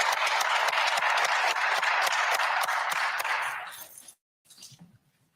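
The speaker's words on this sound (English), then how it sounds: "Give her a big round of applause." An audience at a press conference about a police beating applauds, dense sustained clapping at full strength for about four seconds before fading out, followed by a brief soft patter of scattered claps.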